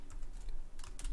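Computer keyboard keys clatter in quick irregular bursts as text is typed into a web form, with brief pauses between runs of clicks. No one speaks.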